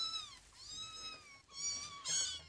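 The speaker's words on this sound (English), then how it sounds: "It's our cat and her kittens." Cat meowing up close, three drawn-out, rising and falling cries, the last one loudest, with quiet gaps between them and no talk.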